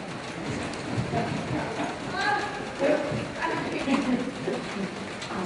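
A horse walks forward with soft, uneven hoof clops, while pigeons coo close by and faint voices murmur in the background.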